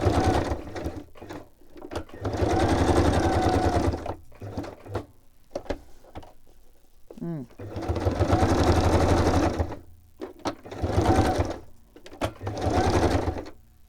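Sewing machine running in repeated zigzag-stitch bursts of a few seconds each, loud and close, with short quiet pauses and small mechanical clicks between runs.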